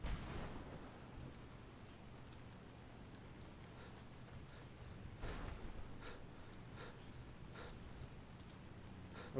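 Rain and thunder roll through a Skyrim thunderstorm with lightning, a faint steady hiss of rainfall under several distant rumbling thunder bursts.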